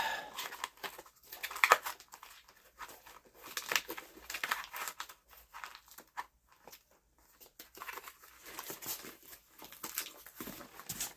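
Boxed wine spout being punched through and pulled out, faint close crinkling and scuffing of cardboard and plastic in irregular bursts, quiet throughout.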